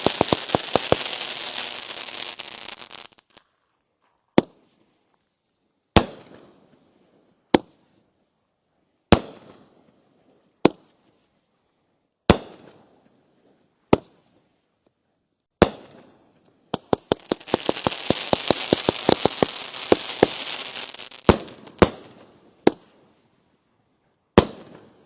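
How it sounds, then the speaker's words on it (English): A fireworks cake goes off in a dense crackling barrage, then fires single sharp bangs about every second and a half, then bursts into a second long crackling volley before a few final pops. "we got our first angle cake of the night. This is fireworks."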